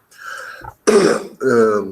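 A man clears his throat in a quiet room, two or three rough, voiced hacks separated by brief pauses, close and fairly loud.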